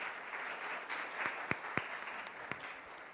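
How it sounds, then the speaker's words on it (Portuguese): An audience applauding at the close of a round-table panel event, a steady, moderately distant wash of clapping with a few louder individual claps near the middle. "Uma salva de palmas, então, para vocês."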